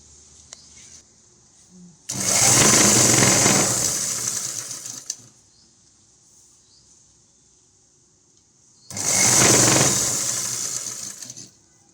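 A sewing machine stitches the back neck of a long umbrella frock in two bursts, a close, steady whirring run of about three seconds, a pause of near quiet, then a second run of similar length.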